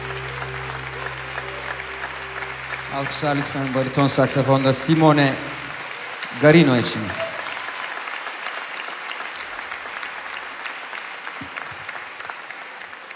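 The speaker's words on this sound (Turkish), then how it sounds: "Alkışlar lütfen bariton saksafonda Simone" A concert crowd at a big band show applauds baritone saxophonist Simone Garino in a long, steady wash of clapping, with the band's last notes and someone speaking over the opening seconds.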